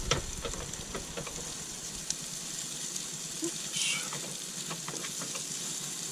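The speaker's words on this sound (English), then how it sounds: "Get these a good fry up" Food frying in a pan during a solo overnight car camping trip at a UK retail park, a steady close sizzle with faint clinks and stirring, no talk over it.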